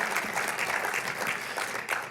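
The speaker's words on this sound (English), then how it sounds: "Give him a round of applause anyway." Audience at a NAFTA 20th anniversary celebration applauds for a panel, steady dense clapping throughout at moderate distance with no voices over it.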